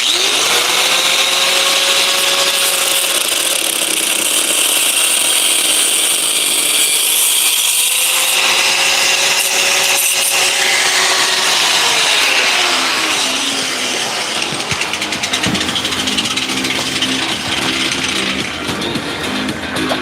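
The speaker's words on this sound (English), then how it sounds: "Let me cut this bolt" A power saw cutting through a metal bolt, a loud continuous whine with shifting pitch as the blade bites, changing to a harsher grinding toward the end.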